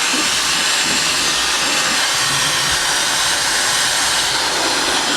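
Dyson Supersonic hair dryer blowing hot air, a loud, steady, close-up rushing hiss that holds unbroken throughout.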